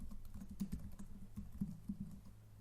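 Quiet keyboard typing while entering HTML code on a computer, a few irregular soft key clicks and short bursts spread over a low steady room hum, with no voices.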